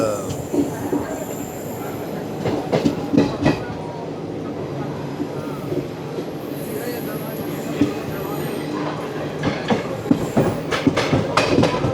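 The 22953 Gujarat Superfast Express runs between Vadodara and Ahmedabad, heard from inside an AC chair car: a continuous rumble with rhythmic wheel clatter and occasional squeals, loud and close throughout, with faint muffled voices in the carriage.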